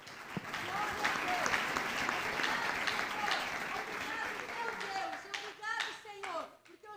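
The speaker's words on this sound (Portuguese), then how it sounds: "Então vamos aplaudir ao Senhor" A church congregation applauds in sustained, dense clapping, with voices and cheers rising through it toward the end as the applause thins out.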